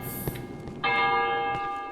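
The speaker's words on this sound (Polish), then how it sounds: "Dzwony. Czyżby wybiła północ?" Church bells ring in the horror video game Cry of Fear, a loud, sustained metallic peal that starts suddenly and hangs with a long ringing tone after a few faint knocks.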